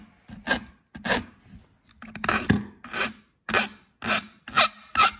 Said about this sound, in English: I'm going to file the end of my wire to get the sharp edges off of it before I bend it over.